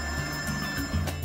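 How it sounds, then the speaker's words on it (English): Telephone ringing in an office where a landscaping design is being discussed, a steady electronic ring that carries on through the whole moment at moderate loudness. "Another phone call."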